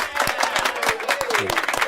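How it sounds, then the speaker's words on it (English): Steady applause from a crowd with overlapping claps, moderately loud and close, while a voice rises faintly underneath. "Big round of applause."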